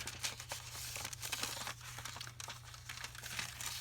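Paper privacy envelopes being handled and crinkled up close, a quiet, continuous rustle with sharper crackles scattered through, alone with no talking.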